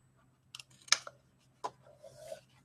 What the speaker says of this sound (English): so I can cut that away.